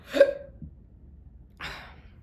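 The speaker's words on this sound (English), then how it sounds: "I get the hiccups and I have to burp." Two close, sharp hiccups from a person, the first louder with a brief voiced catch and the second about a second and a half later, breathier; no speech.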